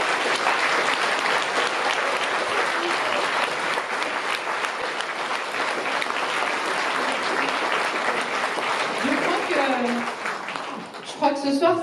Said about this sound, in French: Merci et des applaudissements, s'il vous plaît, pour tous les conjoints, familles, amis, des choristes